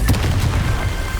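Confringo explosive spell in Hogwarts Legacy: a burst of booming blasts, a couple of sharp thuds early on followed by a rolling low rumble, loud and close.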